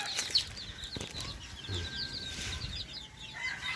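Newly hatched chicks peep in a rapid, high-pitched chorus, many small overlapping calls continuing steadily at moderate volume, with no talking.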